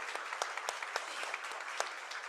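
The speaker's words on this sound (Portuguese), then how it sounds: "Muito obrigada, vamos aplaudir, que eles merecem." Applause from a conference audience after a performance, fairly faint and sparse, with separate claps standing out over a soft patter.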